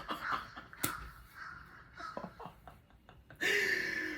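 Several birds calling outside near a window, with sharp crow-like caws in scattered bursts at moderate distance and a louder, sustained call near the end, under occasional faint murmuring.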